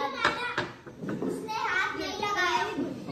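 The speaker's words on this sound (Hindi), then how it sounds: "बच्चों का शोर चल ही रहा है नीचे" Children play and shout downstairs at a school, their high voices overlapping in a lively, continuous clamor heard from a short distance.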